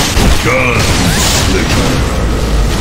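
Booming blast of a bomb drop in Unreal Tournament 3, a loud low rumble mixed with mechanical clanks, a voice shouting over it, and dense game noise throughout.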